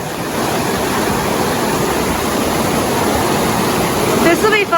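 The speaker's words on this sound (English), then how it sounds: "We're crossing the streams again." A rushing mountain stream crossing a hiking trail on Red Mountain pours out a steady, loud broadband wash of water throughout, close by, with no talk over it.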